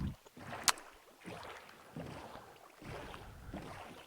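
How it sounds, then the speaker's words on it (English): A small boat glides across water in Minecraft, giving a soft, continuous splashing wash with a brief sharp click near the start, moderately quiet and steady throughout. "Let's just hop in the boat a little bit faster than running on sand."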